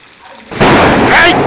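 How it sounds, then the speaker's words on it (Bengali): Thunder cracks during a heavy rainstorm, a sudden loud broadband rumble breaking in after a quieter start and holding steady to the end, close and full over the rain. "এই যে কোথায় যেন ঠাটা পড়ছে"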